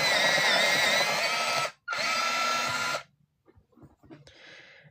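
A metallic orange colored pencil being sharpened in an electric sharpener gives a loud steady whir that runs about two seconds, cuts out briefly, then resumes for another second before stopping, followed by faint clicks and a short high rattle.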